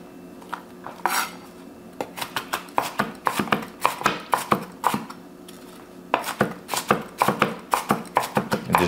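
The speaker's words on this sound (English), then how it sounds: "I'm gonna cut these up in small pieces" Knife chopping an onion into small pieces on a board for lamb kabobs: close, sharp taps come in quick uneven bursts with short pauses, loud and clear over a faint room hum.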